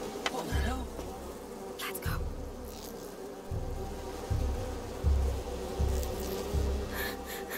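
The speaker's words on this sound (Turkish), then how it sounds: "Eyvah, arı soktu." A bee buzzes in A Plague Tale: Requiem, droning in repeated close swells of low hum with a few sharper clicks and ticks over a quiet game background.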